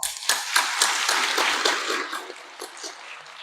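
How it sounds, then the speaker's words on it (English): Audience applause greets the Liberian president and guests at a China-Liberia trade and investment forum in Shenzhen, a dense patter of many clapping hands that is steady, then thins toward the end. "Let's give them a very warm applause."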